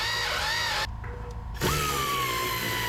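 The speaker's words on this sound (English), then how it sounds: "now changed out to my little ratchet air tool" An air ratchet spins out a spark plug on a 991-generation Porsche 911 during a 40,000-mile service: a loud, steady whirring burst, a short pause, then a second sustained run, close up with no talking.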